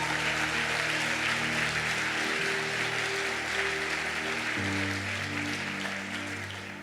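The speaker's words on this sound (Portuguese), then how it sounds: "Alguém pode aplaudir de novo a esse Deus maravilhoso?" A church congregation applauds during a morning worship service, steady dense clapping running throughout over sustained organ or keyboard chords, fading slightly toward the end.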